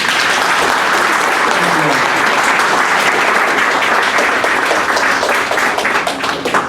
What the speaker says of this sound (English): Can we get a quick round of applause?